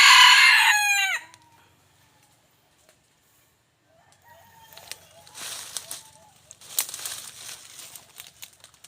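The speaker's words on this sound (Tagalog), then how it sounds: "Pero may kagandahan na tilaok" A loud rooster crow rings out at the start, followed by silence and then distant rustling and faint bird chatter in the background.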